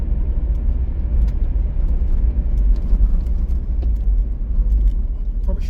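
A car drives through the Adelaide Hills in stormy weather, with a loud, steady low road rumble and engine drone throughout and faint rattles and ticks above it.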